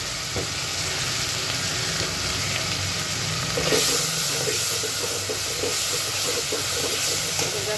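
Onion paste and garlic paste hitting hot oil in a pan, giving a steady, close, broadband sizzle that holds evenly throughout, with no voices.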